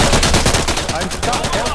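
Loud, rapid automatic gunfire from the tactical shooter Insurgency during a co-op match: a fast, continuous rattle of shots close up, with the bursts running together across the whole moment.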